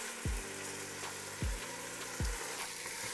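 Washed rice fries in oil in a pot for Mexican chicken soup, a continuous soft sizzle with three low thumps as the grains are stirred, close and fairly quiet.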